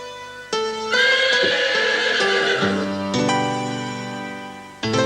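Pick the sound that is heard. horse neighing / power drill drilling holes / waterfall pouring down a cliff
horse neighing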